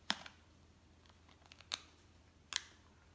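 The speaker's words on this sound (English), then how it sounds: "I was just using my scissors to take it off of my library card loom" Scissors snip thread free from a library card loom: three sharp, close metallic cuts, spaced about a second apart, against a quiet background.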